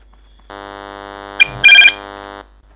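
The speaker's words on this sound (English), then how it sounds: "We had a phone call halfway through recording." A telephone rings partway through a recording session, first as a steady electronic tone and then in two short, harsh bursts of buzzing ring, fairly close and heard alone.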